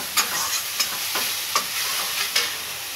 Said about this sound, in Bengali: টমেটো দিয়েছি, দিয়ে একটু আর একটু ভেজে নেব।